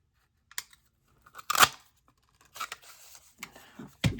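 Paper being cut with scissors while assembling a small handmade book from coin envelopes, heard as a few sharp, close snips and rustles separated by quiet gaps.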